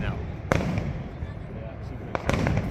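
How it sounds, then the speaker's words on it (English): Canada Day fireworks burst outdoors: a few sharp bangs, one early and a close pair near the end. They sound over a steady background rumble of crowd noise and voices. "just like the fireworks right behind you"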